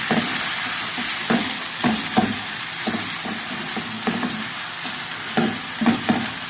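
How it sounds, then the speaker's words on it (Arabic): A spoon stirs spices and salt into tomato sauce with kofta in a frying pan, giving repeated scraping strokes over a steady low sizzle, close up with no talking. "نقلب بس فيها التوابل الاول والملح"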